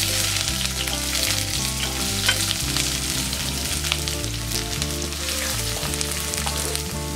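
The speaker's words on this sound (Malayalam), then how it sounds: "ഇതിലേക്ക് നമ്മൾ സവാള ഇട്ട് കൊടുക്കാം." Chopped onions hit hot oil in a pan already crackling with mustard seeds, giving a steady close sizzle that runs throughout alongside background music with a stepping bass line.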